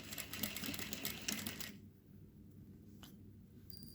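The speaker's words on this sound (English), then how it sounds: "I'm going to start and I'm going to lock my stitch." A sewing machine runs for just under two seconds, locking its stitch at the start of a concave/convex seam. A dense mechanical whirr stops abruptly into near quiet, with a brief faint click later.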